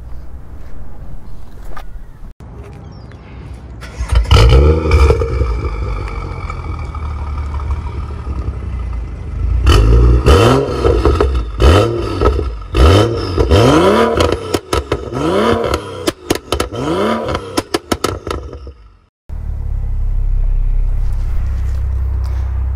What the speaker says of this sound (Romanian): haideți să pornim mașina, să o ascultăm